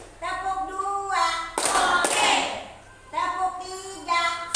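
A classroom of children claps a two-beat cheer pattern together, a burst of group clapping in the middle framed by voices before and after.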